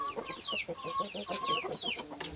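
Pamangon chickens, a Pama–Saigon crossbreed, clucking and squawking in rapid overlapping calls, close by and fairly busy, with no talk.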